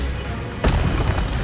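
An Expelliarmus spell goes off in the Hogwarts Legacy video game as a single sharp, loud burst with a short boomy tail. A steady low game ambience runs beneath it, and no one talks.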